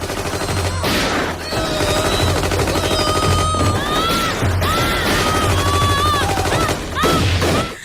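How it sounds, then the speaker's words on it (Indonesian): Machine gun fire rattles in dense, loud bursts from masked police in a film scene, with sharp ringing impacts and shrill tones mixed through the volleys. "tiba-tiba polisi yang menggunakan penutup wajah memberondong semua orang di dalam rumah Altaf"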